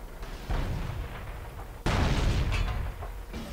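Main gun of an AMX AC mle. 1946 tank destroyer firing in World of Tanks: two heavy booming blasts, the second louder and followed by a rumbling decay, within dense battle noise.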